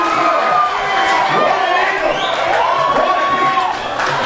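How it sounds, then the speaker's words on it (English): A crowd at a rugby league semi-final between Tupapa Panthers and Avatiu Eels cheers and shouts loudly after a kick at goal, a dense sustained roar with scattered whistles and whoops. "The crowd goes wild."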